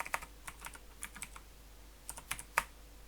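Keys clacking on a computer keyboard while entering code for a Unity RPG inventory script, a few close, sharp, irregular taps in short bursts with quiet gaps between them.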